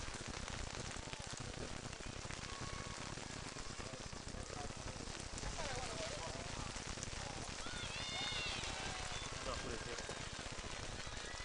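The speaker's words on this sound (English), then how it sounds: "the rain is really starting to come down here" Steady rain falling on an outdoor college softball game between Valley City and Dakota State in April, a continuous broadband hiss and patter throughout, with a commentator talking over it and faint crowd or field sounds.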